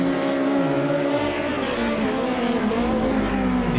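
Several race cars roar steadily through a racing video game's Salvador Street Circuit, their engine notes rising and falling together and staying loud and close throughout.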